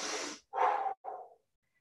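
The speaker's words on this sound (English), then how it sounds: "it's time for you to get in some deep breaths" Deep breaths during a stretching workout, a long airy exhale followed by two shorter breathy puffs, close and clear with silence after.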